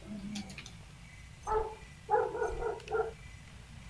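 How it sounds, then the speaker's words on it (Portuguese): Short bursts of a dog barking a little way off, about four barks spread over a few seconds against a quiet, low background. "Tem um cachorro latindo."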